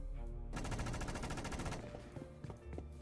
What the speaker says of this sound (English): More ear-splitting gunshots lit the tunnel ahead.